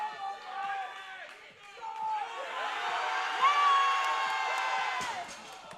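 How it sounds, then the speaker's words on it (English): Crowd at a local weightlifting meet cheering on a lifter: many voices shouting and whooping, swelling louder midway, with an announcer talking over it. "Crowd's behind him."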